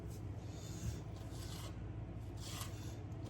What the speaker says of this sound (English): And I can sand it down.